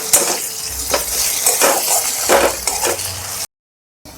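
Onion frying in a pan with ginger, garlic and green chili paste for a vegetarian cabbage kofta curry, with steady sizzling broken by repeated scraping stirs and light utensil clinks, close by, then a sudden cut to silence near the end.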